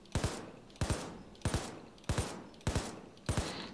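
Falcon rifle in Payday 2 firing six evenly spaced, loud shots, each a sharp double crack with a short decaying tail, at a steady rhythm of roughly one shot every two-thirds of a second.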